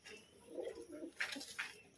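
A pigeon, a full-winged male, gives soft, faint low coos in short phrases, with a couple of brighter rustling bursts like wing movement.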